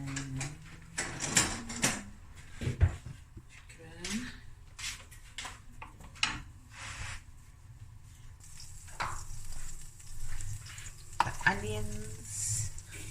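Garlic and parsley butter melts and sizzles in a pot for a seafood boil, a soft crackle beneath people talking, with spoon clinks and scraping stirs scattered throughout.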